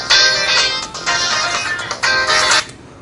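A mobile phone rings during a class, a loud, close electronic ringtone repeating in regular bursts for about three seconds with no one speaking.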